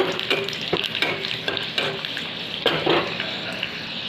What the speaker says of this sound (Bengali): শুকনো লঙ্কা রসুনটা দিয়ে একটু ভেজে নেব